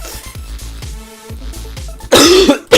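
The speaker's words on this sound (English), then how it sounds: "I need to cough again." A person coughs and clears their throat several times in quick, rough bursts, ending in a louder, harsher hacking cough.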